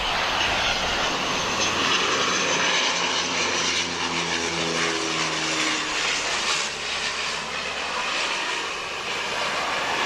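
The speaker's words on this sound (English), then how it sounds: "Perfect little landing." Dash 8 turboprop airliner landing at Wellington Airport, a loud sustained propeller drone and engine roar with a shifting pitch as it passes, steady throughout with no talking.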